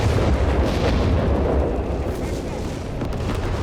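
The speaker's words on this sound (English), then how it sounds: "There's so much artillery, it's tough to keep track of what's going off where" Artillery fire in Company of Heroes 3 rolls in as a dense, loud, continuous rumble of overlapping blasts and booms, a steady barrage with no distinct gaps.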